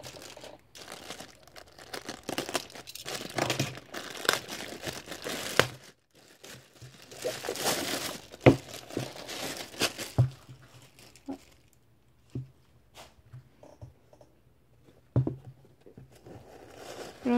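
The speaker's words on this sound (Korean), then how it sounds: "그냥 뜯어볼게요." Plastic and paper from a delivery package crinkle and rip as it is torn open, with irregular close rustles, snaps and tearing bursts spread across the whole stretch, without any talking.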